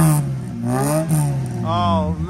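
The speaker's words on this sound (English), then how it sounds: "They had their own distinct noise from that little CVH engine" A Ford XR2's CVH engine blips and revs up briefly, rising then falling, with a raspy note over a steady idle, close by and fairly loud.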